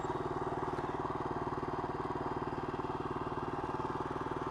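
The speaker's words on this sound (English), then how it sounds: "She's idling a little high." A Kawasaki KLR 250 motorcycle engine idles slightly high after a carburetor rebuild, steady with an even, rapid low thrum throughout, close by and with no one talking.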